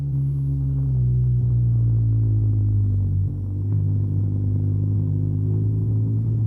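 A BMW R12 GS motorcycle climbing a gravel slope, its engine giving a steady, loud, close low rumble with a constant throbbing drone and only a slight dip partway through.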